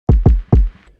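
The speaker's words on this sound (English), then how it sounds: "On our channel strips, we've got kick drum" Three punchy kick drum hits from a boom bap hip hop kit, deep and booming, the first two quick together and the third after a short gap, each decaying fast.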